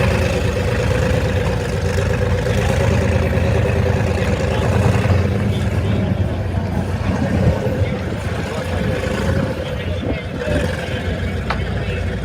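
An M18 Hellcat tank destroyer's engine runs with a steady, heavy mechanical rumble and clatter that holds at an even loudness throughout.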